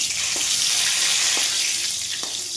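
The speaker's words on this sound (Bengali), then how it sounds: "শুকনো লঙ্কা ভাজা হয়ে গেছে, এবার তেজপাতা দিয়ে দিলাম।" Dried chillies and a bay leaf frying in hot oil, a steady loud hiss and sizzle that runs throughout, close up, with a few faint taps from a utensil.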